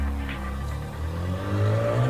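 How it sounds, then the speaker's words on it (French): A Mazda RX7 pulls away, its engine note rising steadily as it accelerates off over about two seconds, fairly close and alone without voices. "Et la voiture part."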